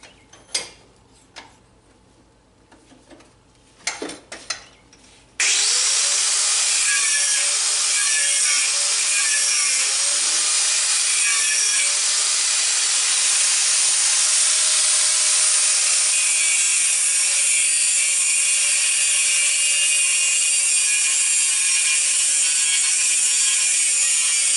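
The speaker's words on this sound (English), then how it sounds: "I'm just notching this" Metal being notched with a hand tool while making radiator hose pliers: a few sharp scraping strokes, then a long, steady, loud grinding rasp that runs without a break to the end.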